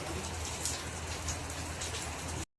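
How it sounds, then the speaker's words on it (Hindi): Heavy rain falling in Gwalior, India, a steady, close, full hiss of downpour with scattered splashes, continuous and uniform until it cuts off abruptly. "दिनों बाद ग्वालियर में बारिश हो रही है।"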